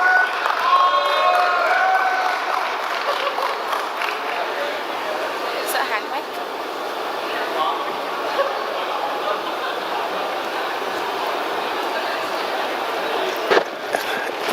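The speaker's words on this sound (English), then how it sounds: "Can we have a huge round of applause for Architect Prashant Sutaria?" An audience applauds an architect at an IIID Hyderabad regional chapter fellowship meet. The dense, steady clapping and crowd noise fill the whole stretch at even loudness, with a few sharper pops near the end.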